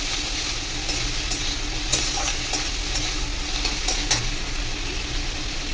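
Thinly sliced beans hit a pan of frying onions, giving a continuous close sizzle with occasional stirring scrapes and no talking.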